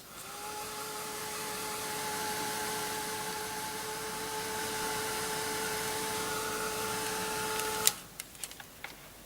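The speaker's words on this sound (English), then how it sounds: "I'm just going to dry the second piece of card with a darker base colour on." A heat tool blows steadily to dry crackle glaze on a piece of card, a continuous whirring hum with a faint whine that cuts off near the end, followed by a few light clicks and taps.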